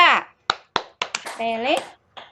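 A class claps out a rhythmic pattern, several sharp, evenly spaced claps mixed with children chanting and calling out in a bright classroom.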